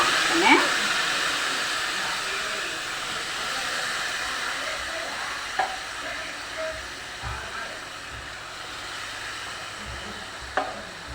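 Rice sautéing in a pan sizzles steadily as water is poured in, a broad hissing fry noise holding for several seconds with a few brief clinks and stirring knocks.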